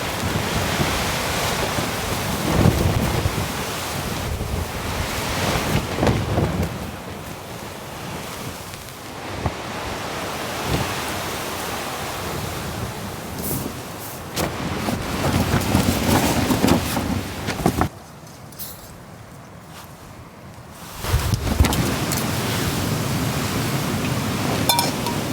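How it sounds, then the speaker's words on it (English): Strong wind gusts buffet a large tent tarp at a campsite as a storm comes in, a loud, close, roaring rush that surges and eases in waves, with no talking. "it's a large bit of fabric and there is quite a bit of wind blowing around"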